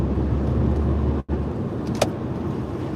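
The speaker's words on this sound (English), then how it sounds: "So you can hear the engine of my Saab 9000." Saab 9000 engine while driving along a busy one-lane road in the Netherlands, a steady moderate cabin drone with road noise, briefly cut out once midway, then a small click.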